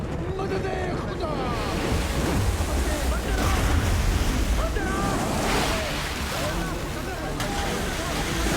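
Ocean waves surge and wash continuously in a film scene with a boat on the water, loud and close, with heavy wind buffeting and occasional voices underneath.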